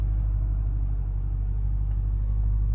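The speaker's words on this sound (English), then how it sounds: "4-liter twin turbo V8." A 2023 Lamborghini Urus Performante with its 4-liter twin-turbo V8 and Akrapovic exhaust idles in a deep, steady low rumble, close and continuous without revving.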